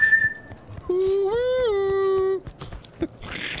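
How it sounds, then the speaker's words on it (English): In Battlefield Vietnam, a Navy boatswain's whistle sounds one sustained tone of about a second and a half that bends upward, then falls away, amid game noise and brief clicks. "Hear that Navy whistle?"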